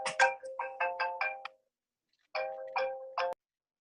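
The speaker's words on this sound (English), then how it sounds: "I had that ringtone once upon a time." A phone ringtone plays a quick bright melodic pattern of repeated beeping notes, pauses for about a second, then repeats part of the phrase and cuts off, heard fairly quietly in a room.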